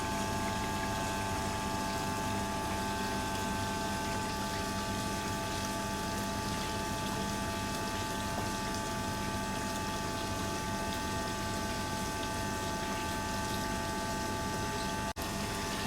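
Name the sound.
water filling a drain tank in a lab apparatus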